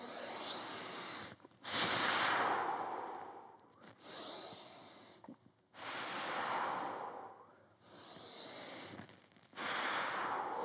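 Slow, deep breathing during a mobility exercise, long airy inhales and exhales alternating with short pauses, close to the microphone and fairly loud, no speech.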